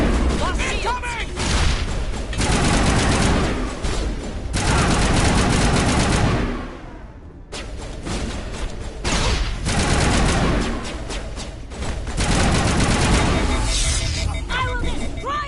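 Sustained gunfire in the video game Mass Effect Legendary Edition, dense loud bursts of automatic fire with a brief lull partway through, mixed under shouted voices.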